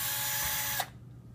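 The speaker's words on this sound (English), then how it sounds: "Now we'll show you after you drill your 3/8 hole" A power drill bores a 3/8 inch hole in an air duct, giving a loud steady whine that stops abruptly partway through, followed by quiet.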